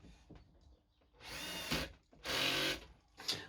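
A power drill drives pocket screws into wood in three close, loud whirring bursts, each a second or less, separated by brief pauses with faint shop noise.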